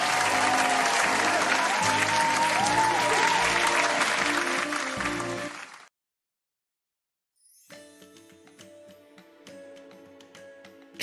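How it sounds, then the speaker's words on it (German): Wedding applause in the video game Story of Seasons: Pioneers of Olive Town, a dense burst of clapping over game music for about six seconds, cutting to silence, then the music resumes alone. "Applaus bitte. Nochmal."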